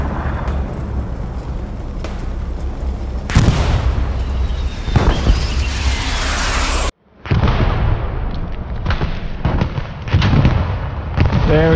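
A tank blows up in the World War II shooter Hell Let Loose with heavy, loud booms and rumbling blasts, a sudden brief dropout, then more crashing explosions and gunfire-like bangs.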